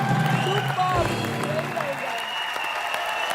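A studio audience at a televised entertainment show gives loud, sustained applause that fills the whole stretch, with a steady wash of clapping over what sounds like music playing underneath.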